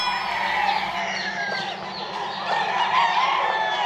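Chickens at a game farm coop cluck and chatter nearby, several birds calling at once in a continuous, busy flock sound, with a rooster crowing among them.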